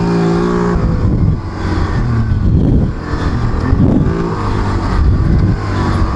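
A quad ATV running without its tracks revs loudly on a dirt track near Oliver, BC, the engine rising and falling in close, continuous surges with no talking.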